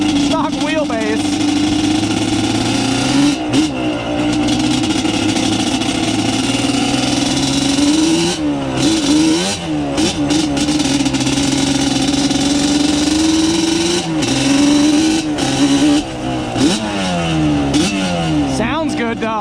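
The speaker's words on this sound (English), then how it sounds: "I love the sound of the Toome exhaust." A Yamaha Banshee 350 ATV with a Toomey exhaust idles and revs loud and close for the whole stretch, repeated throttle blips rising and falling over a steady engine drone, with someone talking over it at times.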